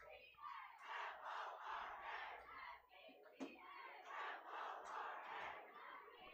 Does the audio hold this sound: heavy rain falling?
no